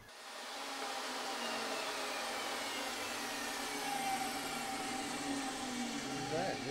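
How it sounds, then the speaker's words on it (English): A table saw with a crosscut sled slices fret slots for a homemade cigar box guitar. The motor starts with a loud, steady whir that holds, and the pitch shifts slightly as the blade bites. "I can align perfectly center with the slot in my crosscut sled. So it really makes life easy. I can just slice my frets all the way down."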